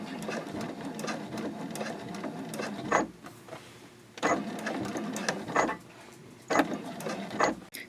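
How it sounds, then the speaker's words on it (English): Sewing machine top stitching a boxy dopp bag, then back stitching: three runs of steady mechanical whirring, each stopping with a sharp click. "I'm going to stitch right up to that point and then back stitch."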